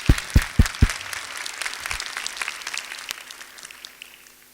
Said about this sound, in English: Please join me in welcoming our guests with a big round of applause.